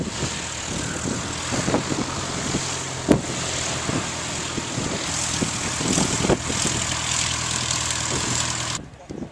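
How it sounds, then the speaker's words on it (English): Propeller airplanes fly overhead as a steady, fairly loud broadband engine drone that holds for about nine seconds, then cuts off abruptly near the end, with faint voices in the background. "What's here today, actually? Quite a few planes."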